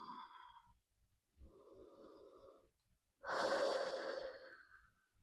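A person holding a yoga pose on a mat breathes deeply, with three slow, quiet, close breaths separated by brief pauses; the last breath is the fullest and loudest.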